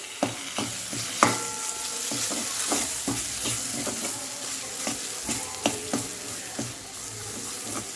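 Chopped coriander stirred into a sizzling egg curry masala, with a steady fry hiss and repeated scraping clinks of the spoon against the pan, close and fairly loud.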